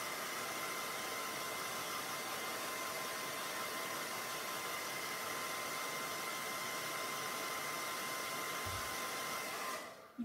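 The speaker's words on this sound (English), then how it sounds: "you can't hear me while I'm using the blow dryer?" A blow dryer runs steadily on acrylic paint, a loud, constant whooshing hiss that holds unbroken before cutting off at the end.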